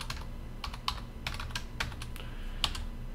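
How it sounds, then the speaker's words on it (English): A password is typed on a computer keyboard: soft, quick key clicks in irregular bursts over a steady low hum, fairly faint and close. "So you're going to enter your own password."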